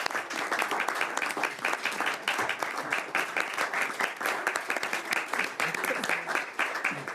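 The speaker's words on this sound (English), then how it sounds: "we'll give a round of applause" Committee members at a parliamentary committee meeting applaud together, a steady dense patter of many hands clapping at close range for the full stretch, with a few voices murmuring underneath.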